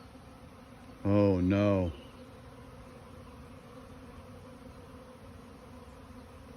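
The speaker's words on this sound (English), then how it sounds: "I think my hive's about to swarm." Honeybees buzz from a hive about to swarm, a steady, even drone filling the background throughout, while a person briefly speaks a couple of words near the start.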